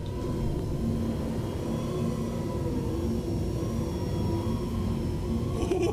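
A jet fighter engine running near full afterburner in a flight video game, a steady deep rumbling roar with a faint whine above it, constant and loud with no speech.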